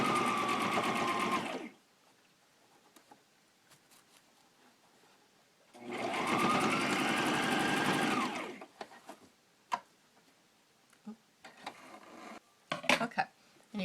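A sewing machine runs steadily along a seam on a needlework bag in two loud, close bursts, with quiet handling clicks and rustles between them.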